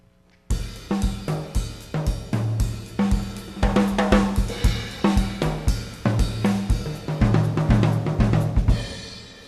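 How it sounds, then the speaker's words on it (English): A calypso rhythm played on a drum kit, a steady syncopated pattern of low bass-drum thumps and bright cymbal and snare hits, loud and close with no talking. "This is kind of a calypso rhythm."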